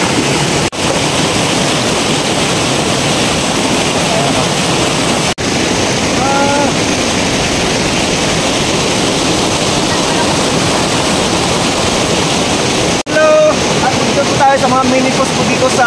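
Steady, loud roar of a hidden waterfall in Aguilar, Pangasinan, rushing water filling the air without pause, with a few faint higher sounds near the end.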